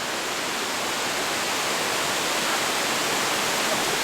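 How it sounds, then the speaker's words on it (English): A constant, loud rushing roar of falling water from a waterfall at Top of the Rock in Branson, Missouri, close and unbroken throughout, with no other sounds. "Waterfall."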